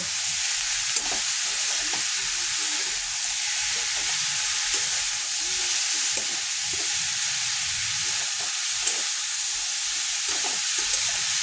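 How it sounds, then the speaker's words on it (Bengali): Bottle gourd cooking in a pan with salt and turmeric, giving a steady, even hissing sizzle throughout, with occasional faint stirring scrapes, close and continuous. "এরপর লাউটা আমি ভালো করে নেড়ে চেড়ে সিদ্ধ করে নেব।"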